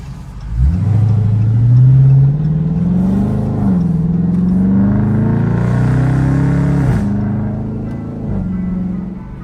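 A Dodge Charger SRT engine revs while driving, with a loud close mid-pitched roar climbing through several rising sweeps and gear-like drops, then easing off near the end, with no talking.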